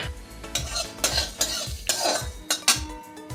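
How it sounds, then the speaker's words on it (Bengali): Coriander seeds, a dried chili and fennel seeds frying in a pan, a soft sizzle under rhythmic scraping strokes of a spoon against the metal, roughly every half second, close by with no speech. "ধনিয়া একটা শুকনো লঙ্কা আর খুব সামান্য চামচের হাফ চামচেরও কম একটু মৌরি এটা আগে কিছুক্ষণ ভেজে নেব"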